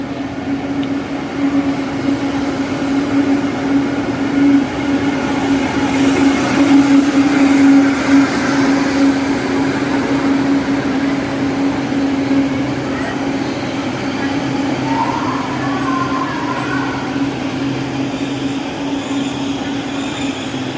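A train rumbles continuously with a steady low hum and a faint squeal of wheels, with muffled voices in the background.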